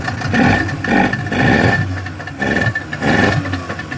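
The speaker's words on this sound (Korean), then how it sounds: "야마 40마력 투사이클 전동 시동 타입입니다." A used Yamaha 40 hp two-stroke electric-start outboard motor runs close by, its loud engine drone pulsing in uneven surges with a clattery edge.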